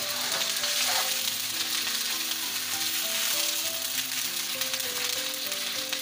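Chicken crackles and sizzles in a pan, a continuous, even frying hiss that stays close and unbroken for several seconds, with no one talking.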